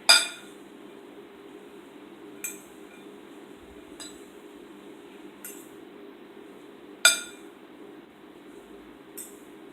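Fish salad ingredients with black pepper being stirred in a bowl, utensil clinking against the dish in a few sharp taps spread through otherwise quiet stirring.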